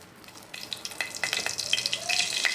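Asafoetida drops into hot oil for a tomato rasam tempering, giving a quick crackling sizzle that builds over a couple of seconds with sharp pops and a faint thin tone, fairly close and moderately loud.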